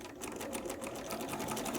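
Sewing machine stitching quilt pieces for a LeMoyne Star block, a fast, even run of needle strokes in a continuous mechanical whir, close and quiet.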